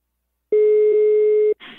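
A single steady telephone line tone sounds loud and clean for about a second after silence, then cuts off into a short burst of line noise.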